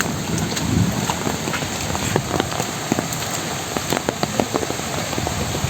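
Rain falls steadily on surfaces in a village, a dense continuous patter with scattered sharper drops, moderately loud and unbroken throughout.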